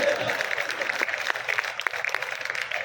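An audience at a Hindi kavi sammelan comedy poetry gathering claps steadily, a dense continuous patter of hands with scattered sharper claps throughout.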